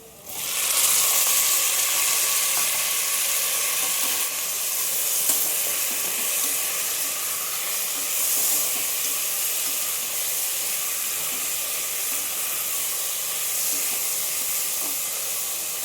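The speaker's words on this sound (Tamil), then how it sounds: "தக்காளி நல்லா மசிகிற வரைக்கும் இப்படியே வதக்கிட்டு இருக்கட்டும்." Steady, loud sizzling and hissing of chopped tomatoes sautéing in a hot pan, a continuous crackle that holds evenly throughout with no talking.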